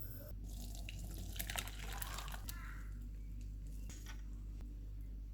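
Water splashes and trickles steadily as curdled milk is strained for paneer, with faint clinks of a pot or utensil against a constant low background hum.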